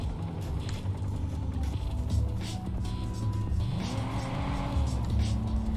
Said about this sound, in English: Yeah, man, keep driving.